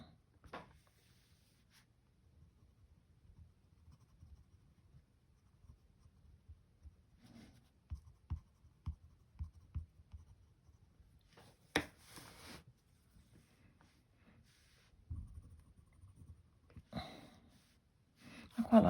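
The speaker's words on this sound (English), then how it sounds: "Go back in with the graphite pencil" Graphite pencil working over a paper drawing, with soft, quiet scratchy strokes coming in scattered bursts, a few louder rubs and taps toward the end, mostly faint and close.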